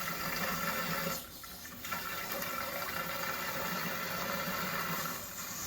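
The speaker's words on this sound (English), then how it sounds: "Turn this thing right on now." A supply tap at an upstairs laundry outlet box is turned on, and water rushes out under good pressure in a loud, steady hiss. The flow dips briefly near the start, then runs on evenly with no speech.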